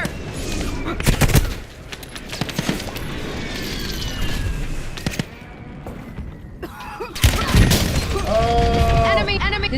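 Battle-royale video game gunfire crackles in rapid bursts and single shots, with mechanical clatter and shattering hits, close and loud under game voice callouts.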